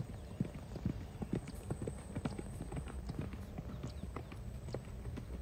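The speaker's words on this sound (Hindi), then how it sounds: "मैं नहीं चाहता कि इस घोड़े को मैं ज़्यादा भगाऊं, मगर ये खुद ही भागना चाहता है" The hooves of a Marwari horse clip-clop steadily and quietly at a brisk, even rhythm on the ground, with no other sound over them.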